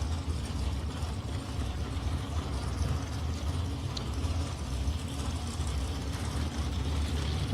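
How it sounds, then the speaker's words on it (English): Two drag cars, a Camaro and a Datsun, idle at the staging beams of a street drag-racing event, giving a steady, moderately distant low engine rumble with no pronounced revving. "The Camaro and the Datsun moving up into the staging beams."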